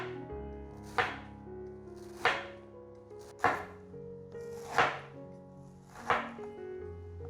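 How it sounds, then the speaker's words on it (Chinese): Enoki mushrooms chopped with a knife on a wooden board: five crisp, evenly spaced chops, each a sharp thunk with a short ringing tail, close and clear over a low background hum. "把金针菇切碎。"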